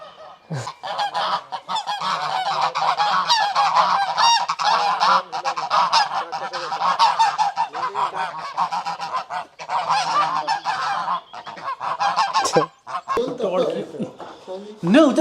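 Poultry at a chicken farm, a dense, continuous chorus of loud honking and squawking birds close by, with voices mixed in.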